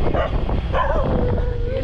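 A dog barks and yips repeatedly against a noisy, busy background, fairly close and loud.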